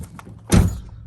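The door of a BMW E92 335d coupe, just refitted with a new left front wing, gives one dull, close thunk as it swings open, with light room noise before and after.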